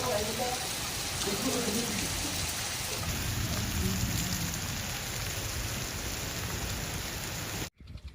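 A steady rain shower pours down, a dense even hiss of drops on surfaces that fills the whole stretch before cutting off abruptly near the end.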